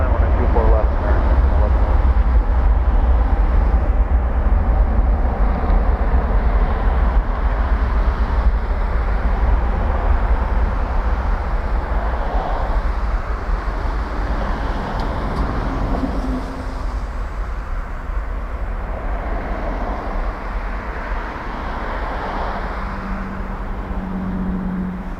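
A Condor airliner bound for Frankfurt takes off from Toronto Pearson, a loud, steady low jet roar that holds through the whole stretch and eases slightly toward the end, with faint talk in the background.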